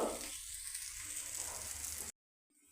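A paratha fries in oil on a pan, giving a steady close sizzle that cuts off abruptly into near silence.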